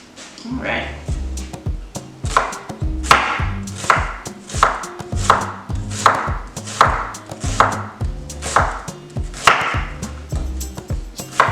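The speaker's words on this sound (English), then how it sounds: "So we're going to slice the onions up nice and thin" Yellow onions are chopped into thin slices on a cutting board, a steady, evenly spaced run of close, crisp knife strikes carrying on for about a dozen beats.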